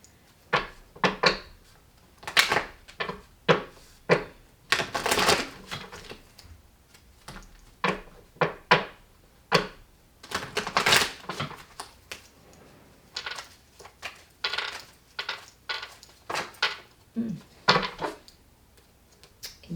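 Repeated bursts of tarot card shuffling and tapping, irregular but frequent, close and fairly crisp, with quiet pauses between; no talking.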